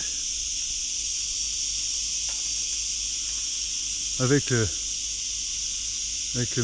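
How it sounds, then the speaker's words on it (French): Cicadas sing in Chulilla, Spain, a continuous high, shimmering drone that stays even from start to finish, while someone briefly speaks over it. "Alors là, on entend les cigales"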